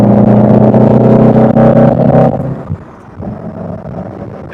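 A 1966 Lancia Fulvia on a winding back road: a steady, loud engine drone with harmonic tones for about two seconds, then it eases off to a quieter rumble as the car lifts and coasts, with no talk.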